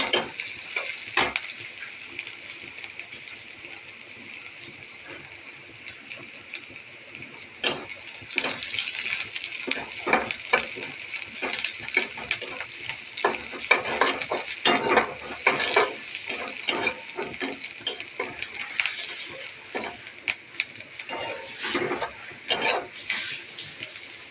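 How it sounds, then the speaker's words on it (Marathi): Chopped onions fry in a pan with a steady sizzle while a spoon scrapes and stirs them, clattering against the metal in irregular bursts throughout, close and continuous. "कांदा व्यवस्थित लाल भाजून घेऊ. कांद्याचा कलर चेंज होईस्तोवर भाजायचा लाल."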